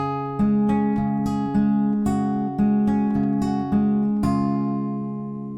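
A fingerpicked acoustic guitar plays a variation on the riff from a song, with clear, ringing plucked notes in an even, repeating pattern, close and alone.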